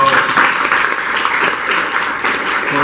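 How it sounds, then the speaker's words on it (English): A crowd applauds continuously at a panel discussion, dense clapping filling the room at steady strength for a few seconds. "another round of applause"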